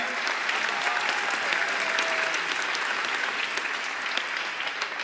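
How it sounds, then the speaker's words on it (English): A high school graduation crowd in a large hall claps for the choir and its director, a steady, even wash of applause lasting about five seconds with no talk over it. "Give a big round of applause to Miss Cherry and the choir"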